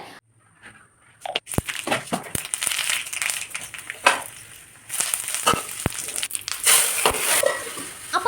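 Whole spices for a curry tempering fry in a hot pan, giving a close, crackling sizzle with sharp pops and scraping stirs, loud through most of the stretch.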